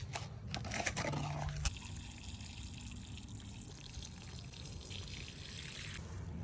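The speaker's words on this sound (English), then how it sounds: "I'm just grabbing my watering can so I can go out and water my new little plants" Water pours from a watering can onto small new plants outdoors, a steady soft splashing trickle that runs for several seconds at low volume, with a brief clunk near the start.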